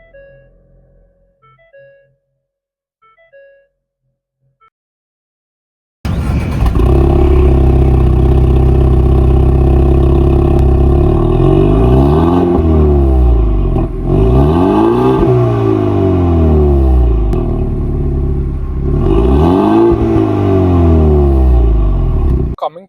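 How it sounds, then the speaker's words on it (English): A 2026 Ford Mustang EcoBoost starts after a few seconds of quiet, then idles loudly and is revved repeatedly in rising and falling sweeps, close and powerful. "Now let's start this Mustang and find out how it's like to hear."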